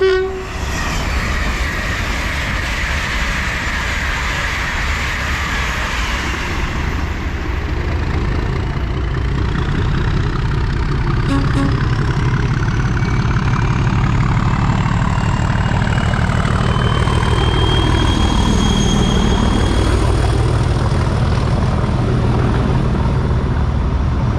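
An LNER train passes through a station on the East Coast Main Line, a loud sustained rumble of wheels and engine close by with a horn sounding near the start.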